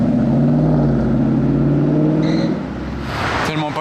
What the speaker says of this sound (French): Elle fait un beau bruit cette Mustang